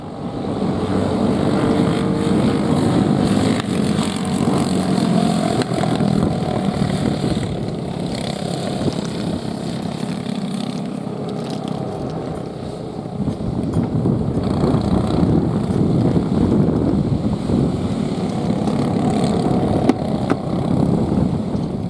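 Racing powerboats in a 4SS Supermax heavy heat rumble steadily as they begin their formation lap, a loud, continuous engine drone that holds throughout.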